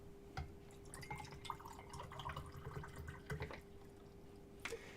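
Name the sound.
pouring water into a cup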